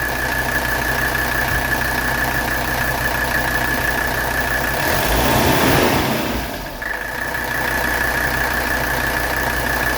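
A 1985 Mercedes 300SD diesel engine idling smoothly and steadily up close, with a constant whine riding over the rumble and a brief swell in the middle.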